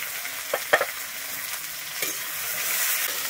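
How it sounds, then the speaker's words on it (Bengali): Chopped onions hitting hot mustard oil after garlic, with a few sharp clacks and scrapes of stirring early on, then a steady sizzle building louder toward the end. "আমি তারপরে দিচ্ছি কুচানো পেঁয়াজ।"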